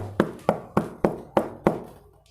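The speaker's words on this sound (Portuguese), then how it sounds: "Eis que estou à porta e bato" Six evenly spaced knocks on a door, firm and fairly close, with a steady rhythm that fades slightly toward the end and no talk over it.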